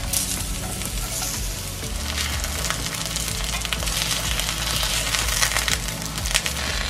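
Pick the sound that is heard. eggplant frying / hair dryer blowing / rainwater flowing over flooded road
eggplant frying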